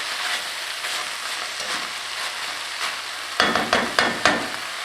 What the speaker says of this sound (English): I'm going to return the meat and the bacon to this. Okay, I'll give this a little mix